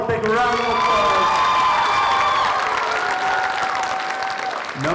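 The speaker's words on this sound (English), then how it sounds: "let's give Bella one more big round of applause" An audience at a high school singing contest bursts into loud applause and cheering, with dense clapping, whoops and a few high shouts running steadily for about four seconds before dying away. A voice speaks over the crowd near the start.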